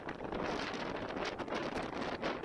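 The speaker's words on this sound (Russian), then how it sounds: "ветер в разгар ненастья разгонялся до ураганных 43 метров в секунду" Hurricane-force wind of a blizzard in Anadyr, Chukotka, roars as steady broadband buffeting against the microphone, with gusting surges throughout and no voices.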